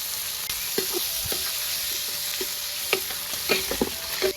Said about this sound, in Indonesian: Goreng lombok buat sambelnya, Lor.